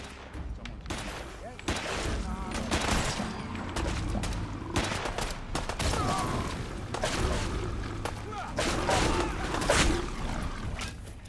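Rapid volley of mixed gunfire in the Fallout 4 video game as defenders shoot at Gulpers emerging from fog, dense overlapping shots and booms throughout with shouted voices in the mix.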